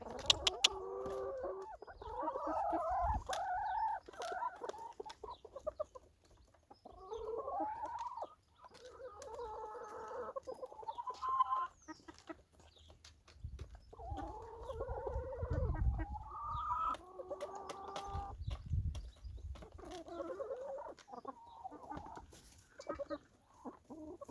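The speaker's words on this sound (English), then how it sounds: "What are you chickens doing?" Several chickens cluck and murmur close by in uneven bursts, with occasional louder squawks and some low rustling underneath.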